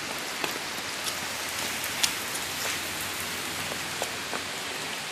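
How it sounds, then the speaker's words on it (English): Steady rain falls on outdoor surfaces, a dense even hiss with scattered sharper drop ticks, moderately quiet and close, with no speech. "Feel the rain, Ben?"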